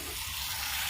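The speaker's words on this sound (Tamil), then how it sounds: "தூதுவளையை நம்ம இது மாதிரி உள்ள போட்டு நல்லா வதக்கணும்." Thuthuvalai (Solanum trilobatum) leaves being sautéed in a pan give a brief, steady, hissing sizzle, even and unbroken throughout.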